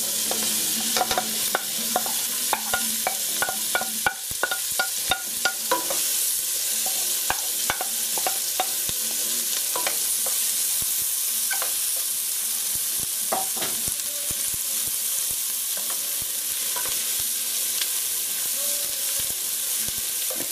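Onions frying in melted fat in a pan for tomato soup, a continuous close hiss of sizzling with scattered scraping knocks of a utensil stirring through them.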